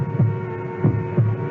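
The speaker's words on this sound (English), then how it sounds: "It's my heart beating. I'm hearing my own heart." A slow, muffled heartbeat in a radio mystery drama, thudding three times at an even pace over a steady low hum, close and dull with no voices.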